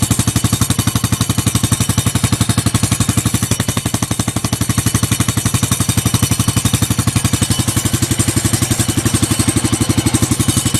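A Baja Dirt Runner 125 motorbike with a restored exhaust pipe runs with a rapid, steady mechanical rattle over its engine pulse, loud and close, holding even for the whole stretch with no talking.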